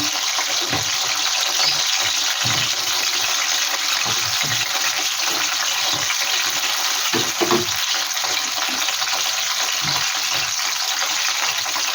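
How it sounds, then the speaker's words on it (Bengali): Cauliflower frying in oil in a home kitchen gives a steady, loud sizzle and hiss throughout, with occasional soft clinks and stirring knocks beneath it. "ওইটার মধ্যেই আমি ফুলকপিটা একটু ভেজে নেব"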